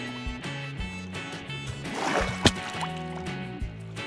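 Splashing into water in Minecraft inside a cave: a single sharp splash near the middle, set among game music tones and soft sloshing liquid sounds.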